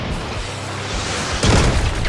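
In the Crossout vehicle combat game, a fuel barrel and an ammo pack explode together as a loud, dense boom that swells midway through a roar of battle noise.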